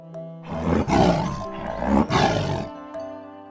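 A tiger gives two long, loud roars in close succession, each swelling then cutting off, with quieter tonal sound before and after.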